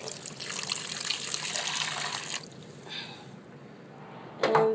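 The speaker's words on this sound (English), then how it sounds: "I'm gonna add water to this." Water is poured from a tap or jug into a pot of young jackfruit curry in a home kitchen: a steady splashing stream for a couple of seconds, then quieter trickling and a short louder splash at the end.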